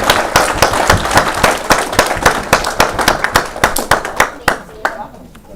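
Audience applause at a board of education meeting, a dense run of hand claps from a seated crowd that carries on steadily, then thins and fades out near the end.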